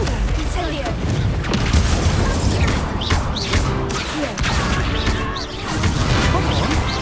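Confringo and Incendio spells blasting in Hogwarts Legacy: repeated booms and crashes over a busy combat din, with shouted voices mixed in throughout.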